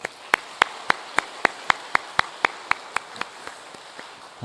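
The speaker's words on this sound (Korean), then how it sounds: "우리 모든 영광 우리 하나님께 영광의 박수 한번 올리겠습니다" A church congregation claps in unison, about sixteen sharp, evenly spaced claps in a steady rhythm that gradually soften toward the end.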